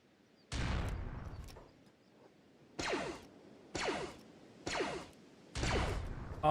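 A sniper rifle in the game Kenshi fires five heavy, booming shots at irregular intervals, each a sharp blast with a short rumbling tail, loud and close in an otherwise quiet scene.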